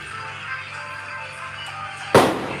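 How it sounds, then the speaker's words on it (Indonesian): A single sharp firecracker bang, loud and close, breaks through a steady background of household noise and a low hum, with a short decaying tail. "Jangan main petasan, Ja."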